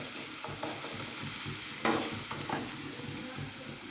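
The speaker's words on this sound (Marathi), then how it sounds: "हिरवी मिरची आणि लसूण जो आहे आपण यामध्ये परतवून घेऊया" Green chillies and garlic sautéing in a pan for a cabbage stir-fry, a dense continuous sizzle with a few stirring scrapes and one sharper burst near the middle, close up and without talk.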